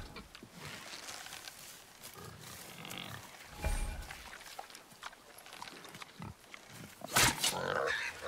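A wild boar in God of War grunts and squeals in short bursts amid game ambience, several loud peaks with a sharp squeal near the end, alongside other in-game sounds.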